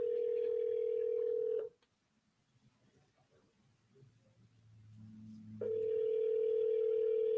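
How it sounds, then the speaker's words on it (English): A steady telephone tone drones, breaks off into a stretch of faint low murmuring, then resumes, like a phone call that goes unanswered. "You can't even get somebody to pick up the phone."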